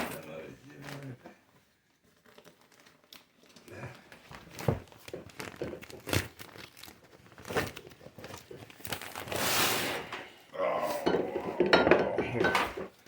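Material being ripped and torn by hand during a mobile home renovation, with repeated rough tearing and crinkling bursts, one long loud rip near the end, mixed with clinking and people talking nearby.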